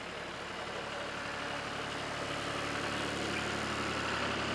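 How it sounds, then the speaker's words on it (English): A tractor engine idles in a steady, dense mechanical drone, loud and close, holding even throughout with no voices. "And Knight's here on the tractor."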